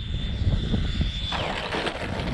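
An E-flite F-16 Thunderbird RC jet on its landing approach down the runway, its electric ducted fan whining steadily and then dropping in pitch as it passes, with a windy outdoor rumble underneath.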